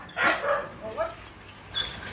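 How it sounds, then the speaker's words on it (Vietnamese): A small dog gives a few short barks and yips, close by in a home setting, with softer whimpering sounds between them and no speech. "Còn bé này là bé chó của chị anh Trầu Phạm Cú đây."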